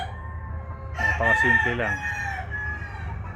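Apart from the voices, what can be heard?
chickens, rooster crowing and clucking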